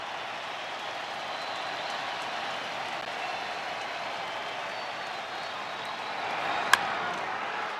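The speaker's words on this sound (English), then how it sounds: "the crowd urging on" Baseball stadium crowd at a Dodgers vs Reds wild card game during a bases-loaded at-bat, a steady distant roar of cheering and urging with one sharp crack near the end.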